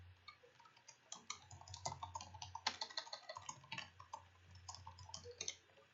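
Computer keyboard typing in a quiet room, a steady run of light clicks and keystrokes with a low hum underneath, no voices.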